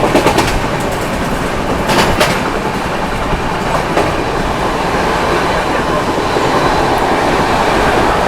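The Vibhuti Express rushes through Andal Junction at high speed, a loud, steady roar of wheels and rail noise with rapid clicking bursts from passing carriages, close and continuous throughout.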